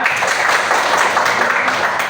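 A classroom of students claps for a student after her conclusion, a short dense burst of applause at steady volume with no pause.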